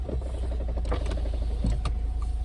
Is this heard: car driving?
yes